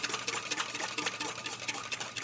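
A whisk beats rapidly against a bowl while oil is poured into a vinaigrette, giving a fast, steady clatter of quiet, close strokes.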